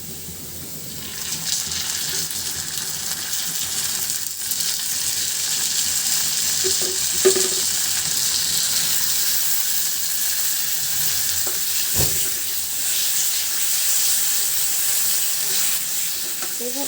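Eggplant pieces sizzle in hot oil in a pan for begun bharta, a loud, steady hiss of frying throughout, with a few faint clinks and scrapes of stirring.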